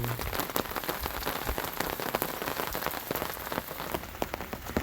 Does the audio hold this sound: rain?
yes